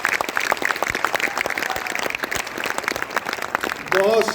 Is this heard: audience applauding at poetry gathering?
yes